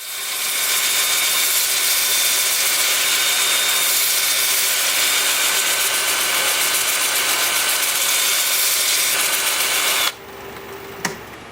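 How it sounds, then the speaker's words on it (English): A continuous high-pitched whirring hiss of a spinning lathe with 80-grit sandpaper on a turned wood piece, steady for ten seconds, then stopping with a brief tap afterward. "I'm starting sanding at 80 grit."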